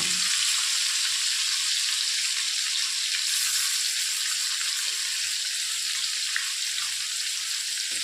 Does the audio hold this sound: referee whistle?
no